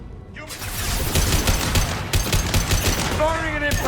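Heavy automatic weapon fire from the Mass Effect 2 impact shot rattles in close, dense bursts, with a short voice cry heard near the end.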